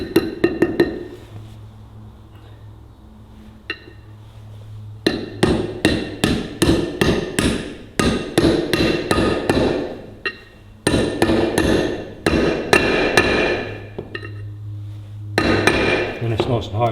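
Repeated sharp metallic hammer blows drive a gearbox oil seal into a Ferguson TEA20 tractor using a 30mm socket, struck in quick clusters with short pauses, close and loud.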